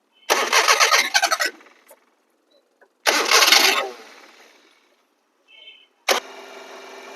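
Maruti 800 car engine starting on the first try: two loud bursts of starter cranking, then the engine catches and settles into a steady idle after a sharp final crank.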